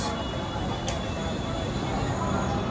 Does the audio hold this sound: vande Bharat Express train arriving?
yes